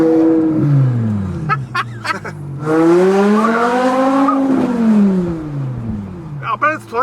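A straight-piped BMW E60 M5 with its V10 roars past on the road, its engine note climbing through the gears, peaking loudly as the car sweeps by and then falling away, with brief tire noise.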